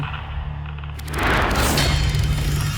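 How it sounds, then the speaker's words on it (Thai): An electric shabu hotpot stove explodes: a sudden loud boom bursts out after a low hum, followed by a sustained roaring rush of noise. "เกิดเตาไฟฟ้า ระเบิดขึ้นอย่างกระทันหัน"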